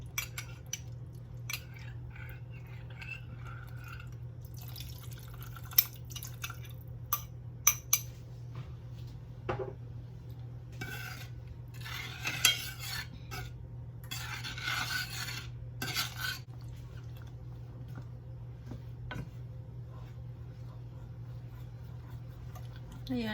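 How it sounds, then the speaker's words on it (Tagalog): A spoon or spatula scrapes and clinks in a pan of palabok sauce thickened with cornstarch, with scattered irregular taps over a steady low kitchen hum. "Ayan, halo-haloin lang natin para hindi masunog sa ibaba."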